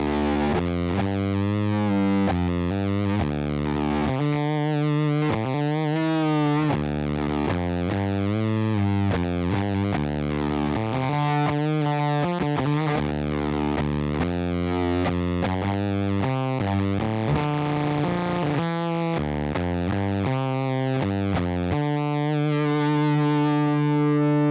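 Electric guitar played through a TONEX amp modeler with a starved, gated fuzz tone, loud sputtering distorted chords and riffs continuing steadily without talk.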